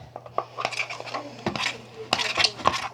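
Homemade slime from a kit is stirred with foam beads mixed in, giving a string of irregular clinks, scrapes and squelchy taps from a utensil against a bowl, close and moderately loud.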